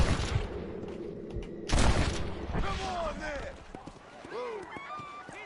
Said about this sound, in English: who's shooting me? Guy, where are you? What are you fucking shooting me for?